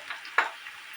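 Chicken with beetroot and carrot being slowly stir-fried without water in a pan, a steady soft sizzle with one brief louder scrape of stirring near the start, no talking.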